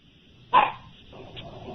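A single dog bark comes through a radio call-in line, sharp and brief over a thin, band-limited phone hiss, followed by low background murmur.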